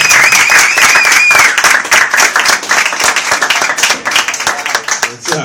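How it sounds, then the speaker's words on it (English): A comedy show crowd applauds as a comedian takes the stage, loud dense clapping that starts at full strength and thins toward the end, with a whistle or cheer over the start and some voices mixed in. "Give a round of applause for John F. O'Donnell,"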